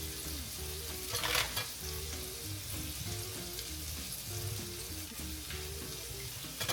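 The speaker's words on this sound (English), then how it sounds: "y'all see those peppers sauteing in our pan" Peppers sauté in a pan for an omelet taco breakfast, giving a steady, close sizzle with occasional stirring scrapes and small clinks throughout, no voices.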